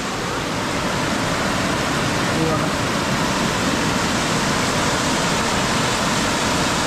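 Rising floodwater rushes through a Konkan stream during heavy monsoon rain, a loud, unbroken roar of churning water filling the whole scene, with voices talking faintly beneath it.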